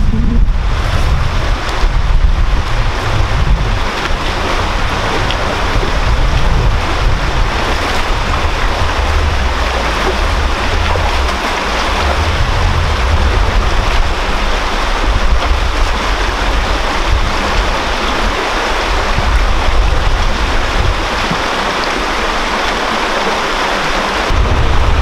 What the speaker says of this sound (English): the river goes under Oakbrook Road now in a culvert